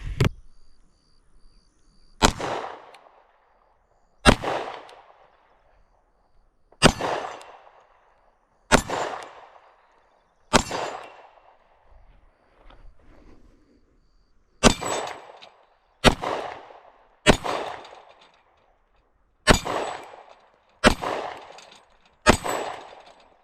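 A Sig Sauer P320 XTen 10mm pistol fires about eleven sharp, loud shots at uneven intervals, each with a short ringing decay, alone without talk.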